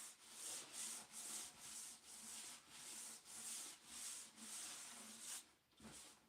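Sandpaper is rubbed back and forth across a vintage wooden chair in rhythmic strokes, about two per second, giving a steady scratchy swish with no voices.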